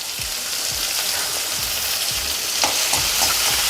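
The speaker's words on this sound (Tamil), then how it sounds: "இது கொஞ்சம் நல்லா குழைய வதக்கணும். தக்காளி குழையிற அளவுக்கு வதக்கணுங்க." Tomatoes and onions for onion sambar sizzle and fry steadily in a pan, with occasional scraping stir strokes over a continuous close hiss.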